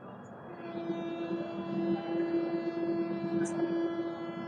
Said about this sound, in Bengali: এই যে 14 নম্বর প্ল্যাটফর্ম থেকে কিন্তু আমাদের ট্রেন রওনা দিল এখন।